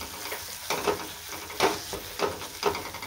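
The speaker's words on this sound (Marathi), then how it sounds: "अजून मी अर्धा एक मिनिट ह्याला छान परतून घेते" Masala with turmeric sautéing in hot oil, a steady close sizzle punctuated by several louder bursts as the mixture is stirred, with no voices.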